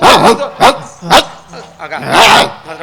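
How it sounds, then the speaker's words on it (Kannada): A dog barks close by and loudly in several sharp bursts, with yips and whimpering sounds mixed in. Speech overlaps the barking. "ಒಂದು ನಾಯಿ ತಂದು ಸಾಕಿದ್ದಾನೆ ಹ. ಒಂದು ಬೊಗಳುದು"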